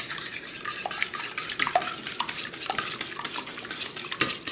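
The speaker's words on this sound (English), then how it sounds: "whisk them up" Eggs whisked briskly in a bowl for crepe batter, giving quick repeated scraping clicks in a steady rhythm, close and fairly loud, with no talking.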